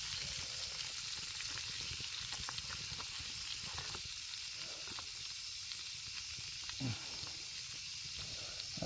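Bacon sizzles in a pan over an open campfire beside a rocky creek bed, giving a steady, quiet hiss with soft crackles throughout and no speech.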